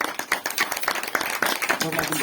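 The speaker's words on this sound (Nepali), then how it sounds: "ताली भइदिनुहोस्" Applause and scattered clapping from guests at a wedding ceremony, a steady patter of hands that keeps going for a couple of seconds with voices mixed in.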